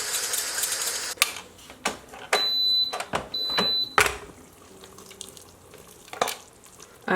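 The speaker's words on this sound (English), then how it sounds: "Just going to whisk that up real quick" An arrowroot mixture is whisked quickly, giving rapid scratchy strokes and clicks against the container in short bursts, with a couple of high electronic beeps partway through, close and fairly loud.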